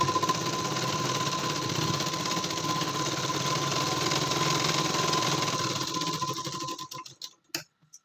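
A sewing machine stitches a katori blouse with a steady, fast whirring hum close by, running continuously before slowing and stopping, followed by a few sharp clicks.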